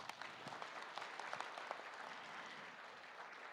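Steady audience applause at an anniversary ceremony for a labor commission, a continuous dense patter of clapping with no pauses, fairly faint and distant.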